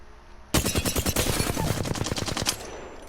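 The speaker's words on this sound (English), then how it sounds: "That's the recoil and stuff of a flatline." Flatline assault rifle in Apex Legends fires one sustained automatic burst of about two seconds, rapid loud shots in an even rhythm that then stop sharply, with no voice over it.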